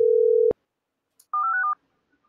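A steady telephone tone cuts off with a click, then after a brief pause a quick burst of several touch-tone dialing beeps plays, clear and close.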